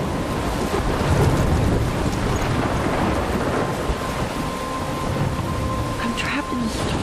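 A thunderstorm with heavy rain in Life is Strange, a dense steady roar of rainfall and wind with low rumbling throughout, loud and close.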